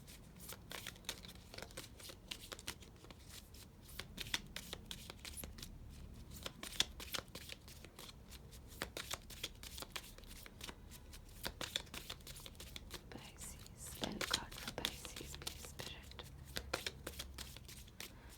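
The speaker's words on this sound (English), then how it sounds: "this is why I don't shuffle tarot on camera" Repeated soft riffling and slapping of tarot cards being shuffled, continuous and close, with brief pauses between bursts.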